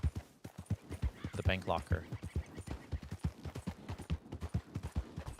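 Hooves of a horse clip-clop in a steady rhythm through a video game scene, close and moderately loud, running beneath nearly continuous talking throughout.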